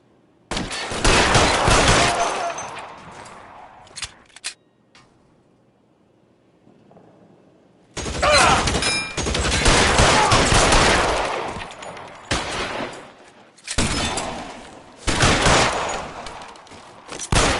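Heavy gunfire during a shootout in the video game L.A. Noire: loud, dense volleys of shots in several bursts with a quiet stretch in between, close and rattling.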